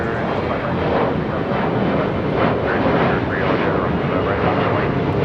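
At LAX, a fixed-wing airliner roars steadily and loudly through its takeoff, a continuous broadband engine rumble with no break; faint radio voices may sit beneath it.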